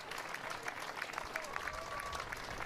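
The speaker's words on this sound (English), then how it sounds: "And a nice round of applause from the Chatham supporters." Crowd of Chatham Anglers supporters applauding at a Cape Cod Baseball League game, a steady even patter of clapping that fills the whole stretch, moderately loud with ballpark ambience beneath.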